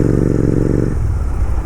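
A Royal Enfield motorcycle engine running up close on a road, a loud continuous thumping drone that shifts in pitch partway through the short burst.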